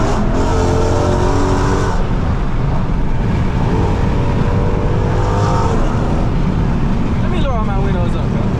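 Straight-piped Dodge Charger Scat Pack roaring on the road, loud exhaust rising and falling through throttle changes under heavy wind noise, with someone talking over it.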